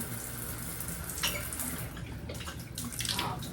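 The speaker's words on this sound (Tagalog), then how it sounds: "Ito yung gripo." Water runs from a faucet in a hotel bathroom during a Manila staycation, a steady hissing stream with a few brighter splashy surges, fairly close and moderately quiet, with no talking.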